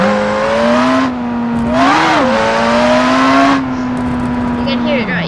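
Supercharged Jaguar CX75 engine in BeamNG revving loudly and close, a steady high drone rising into two sharp swells before dropping back to a lower hum, with supercharger whine on top.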